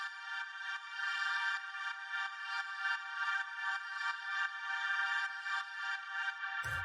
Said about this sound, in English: The next sound that we have here is this droning chord